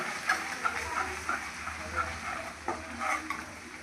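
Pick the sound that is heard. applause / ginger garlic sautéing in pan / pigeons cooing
ginger garlic sautéing in pan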